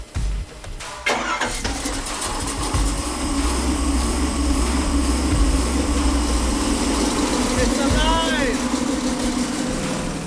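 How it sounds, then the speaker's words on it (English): A Chevy LQ4 V8 with a freshly upgraded intake cranks, catches and fires up, then settles into a steady, loud rumbling run, with a person speaking briefly over it near the end. "The motor not only fired right up, it ran noticeably cooler"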